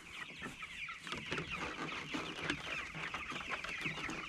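A flock of a few hundred pasture chickens clucks continuously, many overlapping calls forming a busy, steady chatter at moderate distance.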